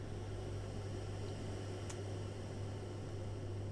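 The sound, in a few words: filtered white noise from Pure Data synthesis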